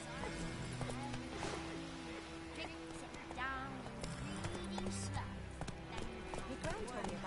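Horse hooves clip-clop steadily in the Witcher 3 video game, heard under continuous speech and game sounds throughout.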